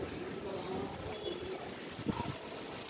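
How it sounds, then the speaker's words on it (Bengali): Strong wind gusting steadily outdoors near a house with a coconut tree, a constant rushing roar that buffets the microphone for the whole moment, with no other clear sounds on top. "কি হাওয়া দেখো, নারকেল গাছটা মারতে যাচ্ছে।"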